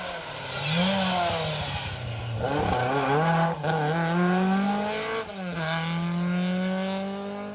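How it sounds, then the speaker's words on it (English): A Ford Escort Mark 1 RS2000 rally car powers along an asphalt rally stage, its engine note rising loudly through the gears with sharp shifts and continuous high revs, close and unbroken throughout. "Mark 1 Escort RS2000"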